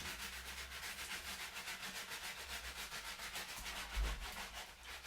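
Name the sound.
scrubbing skin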